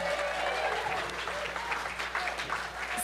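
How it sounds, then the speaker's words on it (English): Steady, dense audience applause at a winter snowpack talk event in Nelson, filling the room evenly for the whole stretch, with a voice faintly mixed in. "Can I get another round of applause?"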